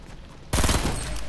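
Loud, dense burst of automatic gunfire in a first-person shooter, erupting suddenly after a quiet start and continuing as rapid close shots.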